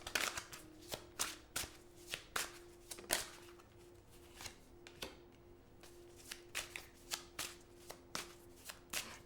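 Tarot cards being shuffled by hand in a series of crisp, repeated riffles and flicks, close and fairly quiet, with brief pauses between bursts.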